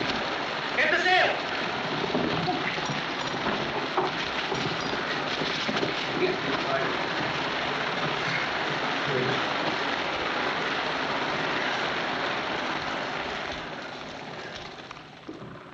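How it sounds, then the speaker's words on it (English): A dense, steady hiss of heavy rain pouring onto a lifeboat at sea in a 1944 film, loud and continuous with a brief louder splash early on, fading slightly toward the end. "It's raining. It's raining. Get the sail."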